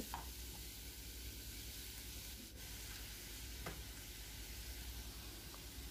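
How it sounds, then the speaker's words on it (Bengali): Chopped tomatoes, garlic and onion frying together in a pan while being stirred, a steady low sizzle with a few faint scrapes of the spoon, no voices. "সব কিছু একসাথে নেড়ে চেড়ে দিচ্ছি"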